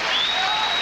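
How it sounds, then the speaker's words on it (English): Crowd applause at a college basketball game between Michigan State and Iowa, a dense steady roar of clapping in a packed arena. "gets a big round of applause"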